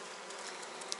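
Honeybees on a hive frame in a failing colony with laying workers, a dense, close, continuous buzz with no pauses and no talking.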